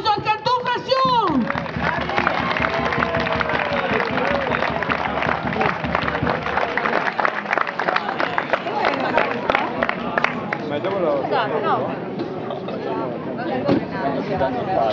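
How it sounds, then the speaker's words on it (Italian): A crowd at the Palio 2011 award ceremony applauds, with dense clapping and chatter throughout, while an announcer's voice rings out at the start. "Ancora un grandissimo applauso al Cantù Frassium!"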